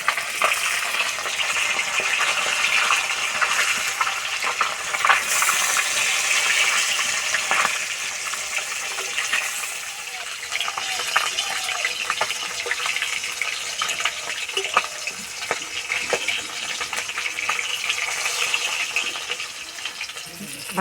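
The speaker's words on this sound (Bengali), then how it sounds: "এবার আমি মাছ ভেজে নেবো" Steady loud sizzling and crackling of fish frying in hot mustard oil, continuous throughout with bright hissing and small pops, no voices.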